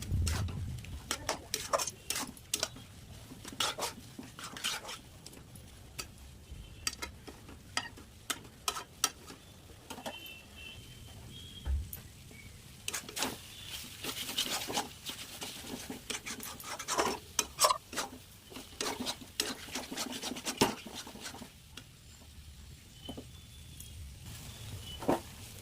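Nut and khoa paste being stirred and fried in a pan, with a steady soft sizzle under repeated scraping and clinking of the spoon against the metal, close and continuous, no talk.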